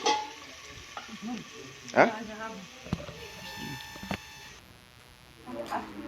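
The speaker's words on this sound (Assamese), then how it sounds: "এয়া আমাৰ মায়ে মাছ ভাজি আছে" Fish frying in a home kitchen pan gives a soft sizzle under a voice talking, with a few clicks and knocks from nearby handling.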